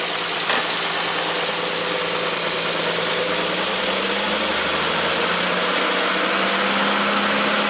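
A 1967 Triumph GT6 engine runs close and loud, held at raised revs in a steady drone whose pitch drops slightly partway through.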